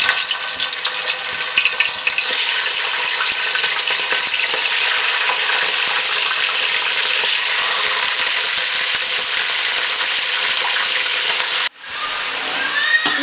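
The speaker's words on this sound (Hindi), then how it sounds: "इस चिकन को हमने तब तक फ्राई करना है जब तक ये हल्का ब्राउन ना हो जाए" Chicken sizzling in hot oil in a pan for a shorba-style salan, a steady loud bright crackle running continuously with a brief dip near the end.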